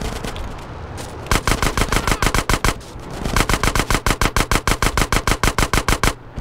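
Automatic gunfire from Grand Theft Auto San Andreas rings out in two long, rapid, evenly spaced bursts separated by a short pause, loud and close with no talking.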